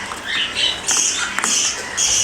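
Baby birds squawking during hand feeding, with several chicks growing up together giving repeated shrill, urgent begging calls in quick close bursts, loud and near, with no voices.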